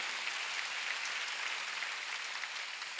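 Steady, dense applause from a church congregation during a Sunday worship service, a broad continuous clapping wash that holds for about three seconds without voices.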